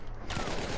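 A single sharp gunshot blast in the Battlefield 1 video game, a brief, loud burst that erupts after a moment of quieter background noise.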